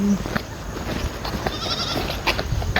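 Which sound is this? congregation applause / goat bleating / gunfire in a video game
goat bleating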